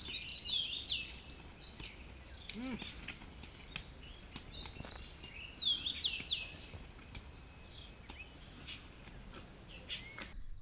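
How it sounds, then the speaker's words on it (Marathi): Several birds chirp and tweet intermittently in the morning against a quiet outdoor background in a Konkan village, with short calls scattered across the whole stretch. "एकदम शांत वातावरण आणि पक्ष्यांचा बिलाट"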